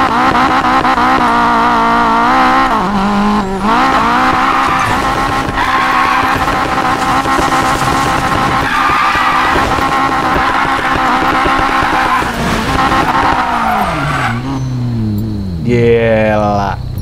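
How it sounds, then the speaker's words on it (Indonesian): A drifting car in the racing game Need for Speed Payback, its engine roaring loud and continuous with a harsh revving tone, then pitch sweeping downward and back up near the end as the car slides. "gue di sini bakalan build drift gitu kan, dan nanti sekalian gue tes buat ngedrift juga"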